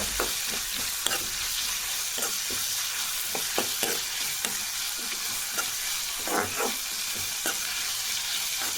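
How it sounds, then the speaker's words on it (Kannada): Chopped tomatoes fry in oil in a pan, giving a steady close sizzle with scattered soft clicks and scrapes from stirring, and no voices. "ಹೆಚ್ಚಿಟ್ಕೊಂಡಂಥ ಟೊಮೆಟೊನ ಹಾಕ್ಕೊಳ್ತಾ ಇದ್ದೀನಿ ಟೊಮೆಟೊನೂ ಒಂಚೂರು ಮೆತ್ತಗಾಗಬೇಕು ಎಣ್ಣೆಲು ಆ ರೀತಿ ಫ್ರೈ ಮಾಡಬೇಕು"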